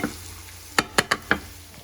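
A spoon stirs spaghetti sauce with meatballs in a pot, giving four sharp scraping knocks in quick succession over a quiet background, with no talking.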